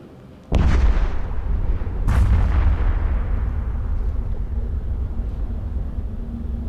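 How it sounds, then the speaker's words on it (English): A Dominix ship is destroyed by weapons fire in the space game EVE Echoes: a sudden loud blast, then a second sharp explosion, trailing into a long rumbling roar. "Okay, the Dominix is destroyed."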